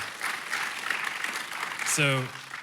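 A crowd claps in a dense, continuous patter of applause, fairly loud throughout, with a brief voice breaking through near the end.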